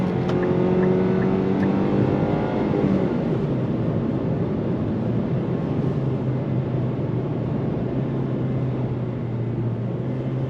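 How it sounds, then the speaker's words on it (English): 2026 Nissan Sentra accelerating under throttle with simulated gear shifts, steady engine drone with rising tones that step between shifts, heard from inside the cabin, no talking. "On throttle, here we go. There's the simulated shifts."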